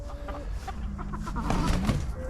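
Chickens, about a dozen hens with a rooster, clucking inside a chicken tractor, faint and a little distant, with scattered calls over a background murmur of voices.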